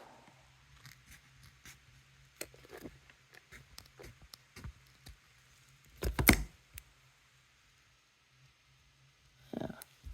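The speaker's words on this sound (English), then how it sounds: "So just need to get the scissors and cut those bits off." Scissors trim excess bits off a freshly de-moulded resin casting: scattered sharp snips and clicks close by, with a louder cluster of cuts midway and one more near the end, quiet between.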